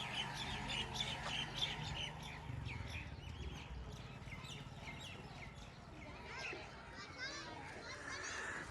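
Village animals and birds in Sialkot, Pakistan call and squawk over a busy outdoor backdrop, with chirps and sharp cries scattered throughout, children's voices and talk mixed in, moderately faint.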